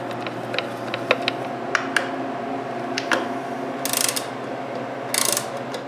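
A clock mechanism in a walnut clock case ticks and clicks irregularly, with small ratcheting gear sounds and a couple of brief whirring bursts, close and fairly quiet.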